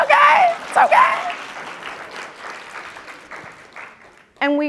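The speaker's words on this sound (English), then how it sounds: "It's okay, y'all can clap, come on" A business-talk audience breaks into applause, loud at first and then tapering off, with a speaker's voice over the opening and returning right after.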